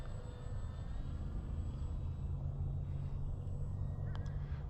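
Radio-controlled model jet airplane flying outdoors on a calm day, a steady droning engine hum held at an even level throughout, with a faint brief chirp near the end.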